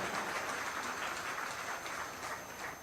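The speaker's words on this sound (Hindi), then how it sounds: "उनके लिए जोरदार ताली बजाएंगे आप लोग।" Faint, distant audience applause at a Kabir Jayanti festival gathering at an ashram, a soft continuous patter of many hands fading slightly toward the end.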